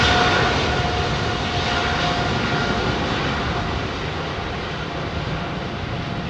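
An Airbus A380 jet applies take-off thrust at London Heathrow, a loud, steady, broadband engine roar close by that fades slightly over the seconds.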